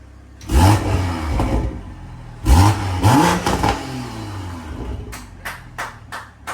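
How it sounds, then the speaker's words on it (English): A BMW B58 engine with a downpipe and unlocked ECU revs up twice in strong surges, each climbing and falling back, followed by a few sharp pops or crackles at the end. "All right, first one is the comfort revs."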